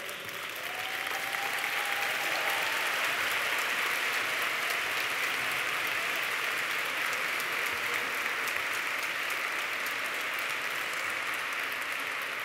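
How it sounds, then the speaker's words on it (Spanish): Sustained applause from the audience at a university graduation ceremony for the Faculty of Political and Social Sciences graduates, a dense steady wash of clapping that holds at even loudness throughout, with no talk over it. "Un aplaudiment per tots."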